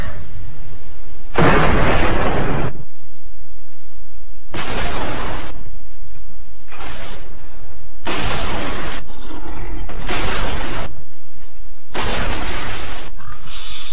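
Sniper rifle sweep shots in Gears of War 2: loud, booming blasts that come one after another at roughly one-second spacing, each slowed down and drawn out, with low rumbling gaps between them.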